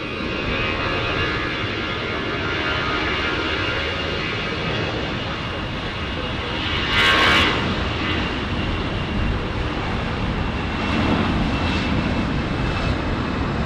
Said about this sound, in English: We have Delta right now taking off.